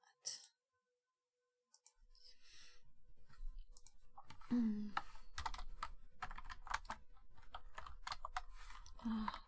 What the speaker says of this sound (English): Typing too fast for myself.